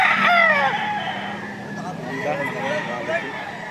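A rooster crows at a busy market, its harmonic call rising clearly near the start and then fading amid steady crowd noise and vendors and buyers talking throughout, with faint clucking and a possible clip-clop in the background.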